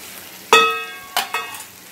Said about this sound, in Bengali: দিয়ে দেব ভেজে রাখা মাশরুমগুলো